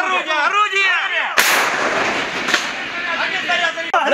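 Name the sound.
anti-tank gun firing a shell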